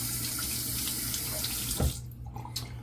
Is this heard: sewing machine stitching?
no